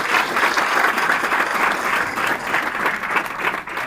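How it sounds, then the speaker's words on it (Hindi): Steady, loud applause from an audience at a live science talk, dense clapping continuing throughout without a break. "या जोरदार तालियां हमारे वॉलंटियर के लिए।"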